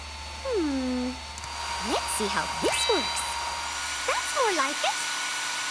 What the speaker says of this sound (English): This dryer is too slow.